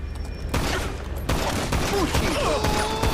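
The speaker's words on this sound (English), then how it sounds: "So let's go ahead and use the pistol a little bit first." Heavy pistol gunfire in GTA 5, loud sharp shots cracking in quick succession with game effects and sounds underneath, close and dense throughout.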